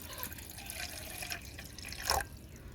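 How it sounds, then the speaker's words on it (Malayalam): A glass of water poured onto tea powder in a pot, a soft close splashing trickle that swells into a brief louder gush near the end, quiet and without talk. "ഈ ഒന്നര സ്പൂൺ തേയിലപ്പൊടിയിലേക്ക് നമ്മൾ ഒരു ഗ്ലാസ് വെള്ളം ഒഴിച്ചു കൊടുക്കുന്നു"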